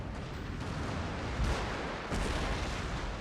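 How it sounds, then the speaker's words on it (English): Howitzer fire in the video game Total War during an American Civil War battle at Fort Wagner, a dense rumbling barrage of booms with a couple of heavier blasts, loud and continuous, no talking. "And now when the howitzer shots start blasting among them"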